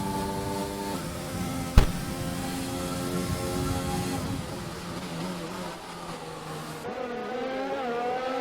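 Racing Point F1 car on an outlap around the Baku street circuit in a racing video game, a steady engine drone with shifting harmonic pitch and one sharp click, partly under quiet background talk.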